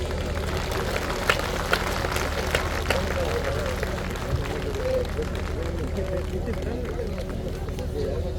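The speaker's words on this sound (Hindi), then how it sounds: "ताली कमजोर है संतों के लिए" A crowd at a devotional gathering at a cow shelter claps for visiting saints, a steady dense patter of many hands throughout, muffled and somewhat distant under continuous background hubbub.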